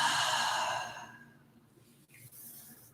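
A single long, audible breath pushed out during a yoga workout, starting strong and fading to quiet after about a second, followed by soft stillness.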